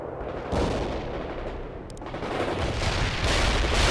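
Mortars fire in the real-time strategy game World in Conflict, a dense continuous rumble of booming explosions and gunfire with no clear gaps, loud and heavy throughout.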